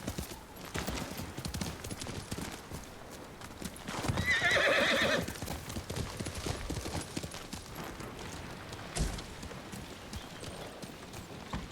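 In Ghost of Tsushima, a horse's hooves pound in a steady gallop while a loud whinny rises midway, all over a dense game soundscape with no speech.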